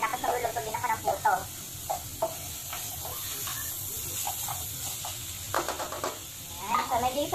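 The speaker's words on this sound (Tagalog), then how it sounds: "So medyo isa-fry muna siya ng konti para masarap yung karne" Meat frying in a pan for Filipino dinuguan, a steady soft sizzle with scattered stirring clicks and scrapes, heard close under a person talking.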